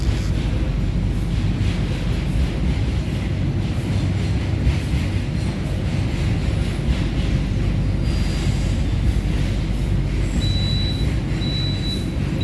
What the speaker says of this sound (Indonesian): Kereta api Taksaka berpapasan dengan kereta api barang Ken5 Cargo dari stasiun Krenceng hingga tujuan akhir stasiun Kalimas